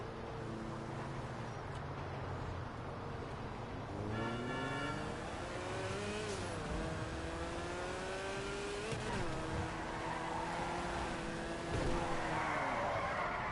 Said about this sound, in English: Electric burnouts are weird.